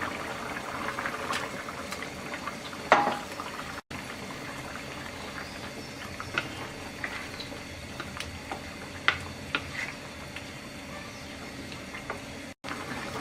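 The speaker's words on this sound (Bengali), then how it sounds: "বলক চলে আসছে, এবার আমরা এর মধ্যে ভাজা মাছগুলো দিয়ে দিচ্ছি" A curry of fried rohu fish, potato and pointed gourd simmers at a boil in a pan, giving a steady close bubbling hiss with occasional louder pops and splashes, no talking.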